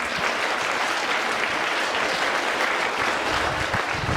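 A school assembly claps in welcome for Rajbala ma'am, a continuous, even roar of many hands from a large crowd with no break.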